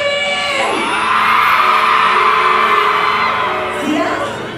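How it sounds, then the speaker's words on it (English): A concert crowd at a performance in Barbados screams and whoops in one sustained, loud wall of voices that swells and then fades slightly. "So when I ask them to scream, that's what I want, right?"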